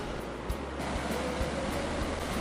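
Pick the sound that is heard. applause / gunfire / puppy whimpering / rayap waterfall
rayap waterfall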